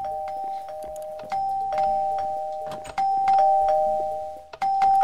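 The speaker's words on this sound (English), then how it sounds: "If I hear one more doorbell!" A doorbell in a FNAF roleplay video game chimes over and over, clear electronic ding-dong tones ringing several times in quick succession and up close.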